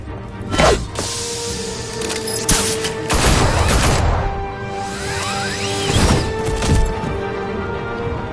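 Gunfire crackles in the Batman Telltale video game, with loud, close bursts and sharp shots mixed with whooshes and thuds, spread unevenly over several seconds.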